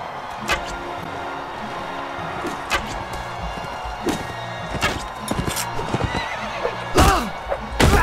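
A horse in a video game whinnies and snorts amid clip-clop hooves and sharp thuds, a busy, fairly loud game soundscape with several distinct bursts.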